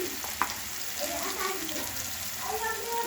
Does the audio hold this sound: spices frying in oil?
yes